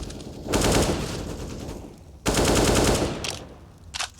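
Rifle fire in a pro Counter-Strike match on the Ancient map: two loud sustained bursts of automatic shots a couple of seconds apart, followed by a few short quick taps.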